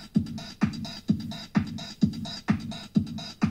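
Club-mix music with a steady, punchy beat plays back from a cassette tape repaired with Scotch tape, the kick hitting about twice per second, loud and alone with no talk over it.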